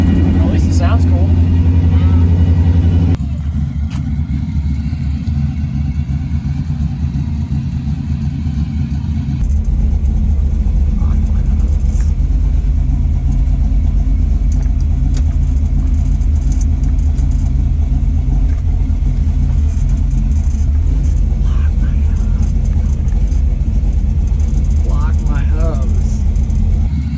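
An unfinished Chevrolet squarebody pickup truck out mudding: a loud, close engine rumbles and revs throughout, shifting in pitch and load, while people talk over it.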